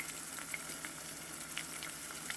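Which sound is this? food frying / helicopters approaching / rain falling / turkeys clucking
food frying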